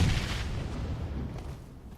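Grenade blasts in a PUBG Mobile match land as a dense, rumbling boom at the start, then a long rolling low-end tail that gradually fades over about two seconds.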